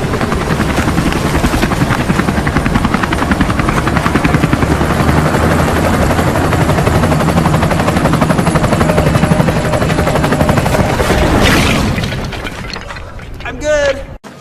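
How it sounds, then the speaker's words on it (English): Loud, steady helicopter rotor thumping close by for most of the clip, fading near the end as a brief voice and other noises come in. "which is why I built this helicopter to get me there"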